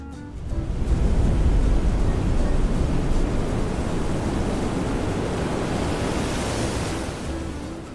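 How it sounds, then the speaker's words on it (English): Ocean surf in an AI-generated scene, a broad loud wash of crashing, splashing water that swells in over the first second and roars steadily before easing slightly near the end, with no voices. "So we have the wave coming from the back, splashing really nicely"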